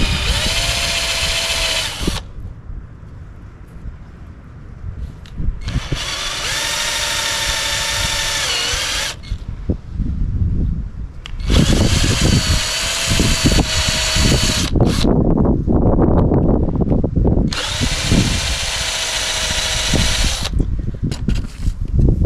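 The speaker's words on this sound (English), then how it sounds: "we're going to take a 1/8 drill bit and drill down where these stake marks are to try to free this up." Power drill boring with a 1/8 inch bit into staked aluminum on a CB350F wheel bearing, four loud whining bursts of several seconds each separated by short pauses with quieter handling noise between.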